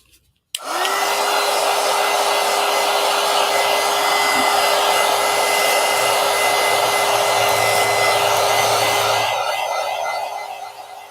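A hair dryer switches on and blows steadily at close range for about nine seconds over a painted cat portrait collage, then winds down, with no talking.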